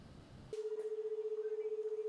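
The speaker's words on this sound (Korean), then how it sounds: "전화벨이 울리자 직원이 빠르게 수화기를 들고 응답합니다" An office telephone rings with a steady electronic tone that starts abruptly after half a second and holds evenly, fairly loud and alone, over faint room background.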